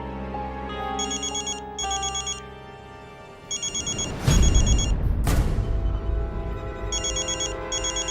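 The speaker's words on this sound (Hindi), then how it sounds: "वो हलवाई का फोन है" A phone rings with repeated bursts of an electronic ringtone, loud and close, over a musical background with a couple of dramatic whooshing swells in the middle.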